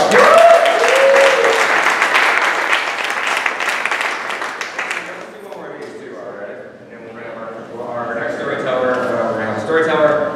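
Applause from an audience at a SermonSLAM storytelling competition, a dense crowd clapping for about five seconds before it thins and voices talk over the fading claps.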